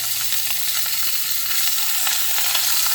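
Pork chop frying in a generous pool of oil in a pan, a steady close sizzle with crackling spatter throughout, no talking.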